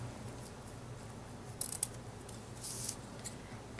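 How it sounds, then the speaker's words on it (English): A couple of quick, crisp scissor snips cutting a ribbon end, with a brief rustle afterward, close by against a quiet room background. "Cut off this end at a diagonal."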